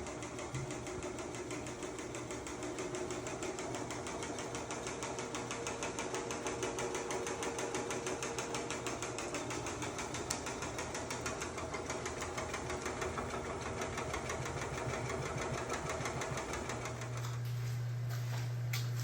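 A rebuilt Cowan honey uncapper machine running during honey season, a loud continuous mechanical clatter with fast rhythmic knocking over an engine-like drone, the tone shifting slightly near the end.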